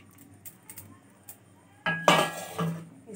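Fried paneer tipped into a finished chilli paneer gravy in a pan, faint light clinks at first, then a louder clatter of a utensil scraping and knocking against the pan as it is mixed in.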